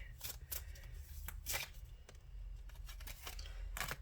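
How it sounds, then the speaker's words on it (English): Tarot cards are shuffled by hand in a series of brisk, papery riffling bursts separated by short pauses, close up, with no voices. "I will just grab a few from this one and then shuffle the other one"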